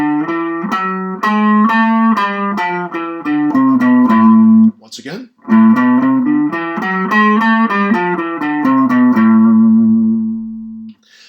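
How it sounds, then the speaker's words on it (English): Guitar runs a melodic minor scale up and then back down, single picked notes in a steady stepwise sequence, close and clear, with a short spoken phrase at the turnaround. "So the melodic scale up and back sounds like this."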